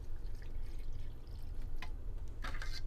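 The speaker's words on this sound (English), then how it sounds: "Going to add about 1 cup of water" About one cup of water is poured over cashews for blending into a paste, giving a soft, quiet trickle with a few brighter splashes near the end.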